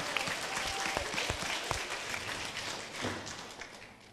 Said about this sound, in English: Wow, let's give a round of applause.